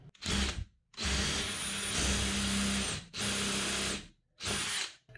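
A power drill bores a hole in wood for a threaded insert, whining loudly in four separate close bursts with short silences between them.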